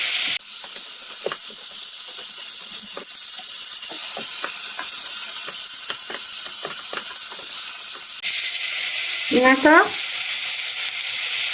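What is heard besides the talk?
ingredients browning and sizzling in a pan for blanquette de veau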